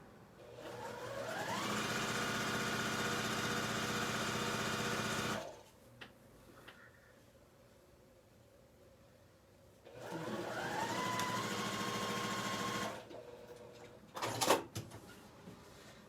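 A sewing machine stitches fabric in two long steady runs, whirring up to speed and holding a constant hum, separated by a quiet pause with small handling clicks.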